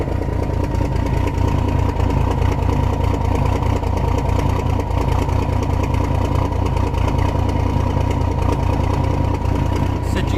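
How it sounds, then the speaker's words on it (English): Big truck engine idling with a steady, loud, rumbling exhaust drone that holds without change throughout, close by, with no talking. "Check out that exhaust."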